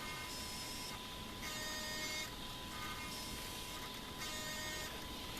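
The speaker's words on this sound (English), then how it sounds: "This one is not a brushless servo, so it's a little bit louder." A non-brushless RC servo, a Turnigy unit tested against a TS-915, whirs with a steady electric whine, pulsing in repeated cycles under faint background hiss.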